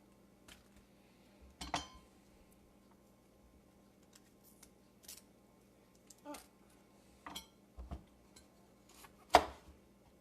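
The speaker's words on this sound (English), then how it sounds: "I'm just cutting around the stem so that it falls apart as much as possible." A knife cuts around a vegetable stem on a cutting board in a home kitchen, a series of sparse, sharp taps and chops, faint and irregular against a quiet background.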